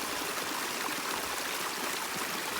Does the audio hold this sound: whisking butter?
no